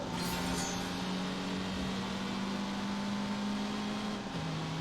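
A car engine in The Grand Tour racing game drones at a steady, sustained pitch, holding a loud, even roar throughout with only a slight dip near the end.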